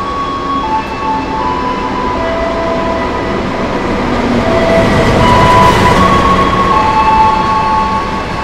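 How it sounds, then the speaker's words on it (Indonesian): The Jayakarta passenger train from Pasar Senen to Surabaya Gubeng rolls into a station on track 3 with a steady rumble, squealing metal tones and clatter, swelling louder midway as it passes close by. "Yang akan segera masuk di jalur 3 adalah kereta api Jayakarta"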